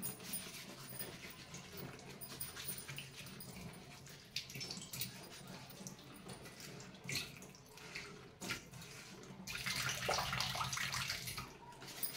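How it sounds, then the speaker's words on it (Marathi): Turmeric leaves are rinsed under running water, a close splashing and gushing flow with intermittent handling bursts and a heavier stream near the end, with no speech. "आता ही पानं चांगली स्वच्छ धुवून घेते."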